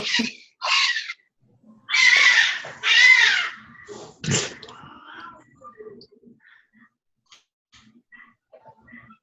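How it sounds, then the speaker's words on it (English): Cats fight in a series of loud, close yowls and screeches, several harsh bursts in quick succession followed by a sharp hiss-like cry, then fading to faint, scattered sounds and near silence. "You guys hear my cats?"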